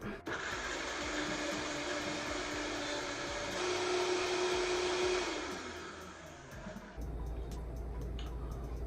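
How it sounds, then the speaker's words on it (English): A blender whirs continuously at close range for about seven seconds while blending a thick, creamy kale dressing, holding a steady high-pitched drone before spinning down into quieter background noise. "now we just have to blend it all up"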